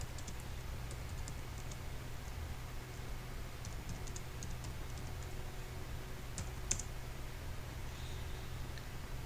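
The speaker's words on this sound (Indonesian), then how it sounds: "Oke, sekarang kita coba, kita ketikkan di sini." Soft typing on a computer keyboard while coding a Python web scraper, quiet scattered key clicks under a steady hiss of background noise.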